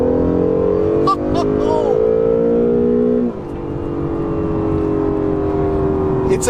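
An Acura NSX super sports car on a wet, rainy road, its engine revving hard into a high, screaming wail with rising and falling pitch, loud and close, with a brief gear-change dip.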